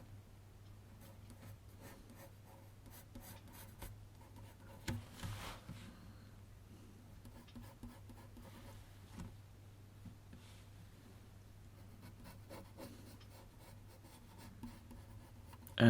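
Pencil scratching and rubbing across paper while sketching a teddy bear, faint continuous strokes with occasional louder scrapes, quiet and close, no voices.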